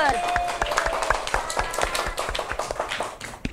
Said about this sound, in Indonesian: silahkan tepuk tangan untuk kelompok Anggur